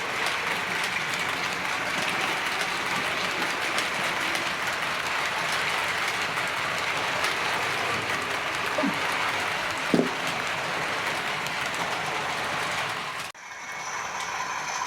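A Hornby model train pulling Cross Country Mark 3 coaches around a fiddle yard loop, rattling and clicking steadily over the track as a continuous mechanical clatter that stops abruptly near the end.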